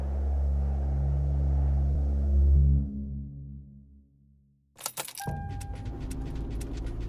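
Keys jangle sharply up close after a car's low engine rumble fades to near silence, a string of bright metallic clinks and rattles following on a trip toward an Icelandic glacier.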